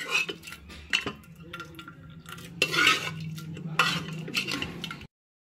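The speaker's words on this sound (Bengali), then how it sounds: "ডালটা একটু হাতায় করে ভালো করে ম্যাশ করে নিচ্ছি এখানে" Ladle mashing cooked biuli dal inside a pressure cooker, giving irregular metallic scrapes and knocks with soft wet squelches in between, close and fairly quiet, ending abruptly.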